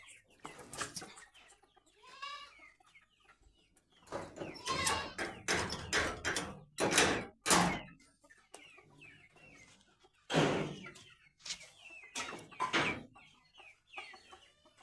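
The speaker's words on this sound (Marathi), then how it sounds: "छोट पिल्लू कोंबडीचं" Chickens cluck and squawk nearby in irregular bursts, some loud and sharp, with quieter gaps between them.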